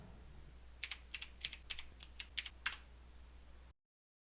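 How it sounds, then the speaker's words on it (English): Keys tapped in a short run of about nine crisp, evenly spaced strokes on an Apple IIe computer keyboard while entering a text-adventure command, close and clear, with nothing else heard before the sound cuts off. "let's type"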